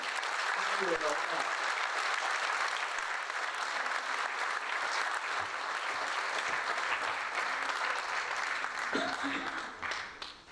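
Audience applause at a mayor's New Year wishes ceremony, a long, steady wash of many hands clapping for over ten seconds, with a few voices calling out briefly before it thins at the end.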